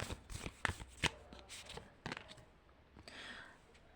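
Tarot cards shuffled and drawn during a reading, a run of quick papery riffles and snaps with a few sharp card slaps near the start, then softer rustling that fades toward the end.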